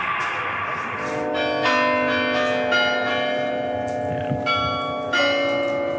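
Church bells in Amsterdam ring out in a sustained, layered peal, with new strikes entering every second or so over a steady ringing wash.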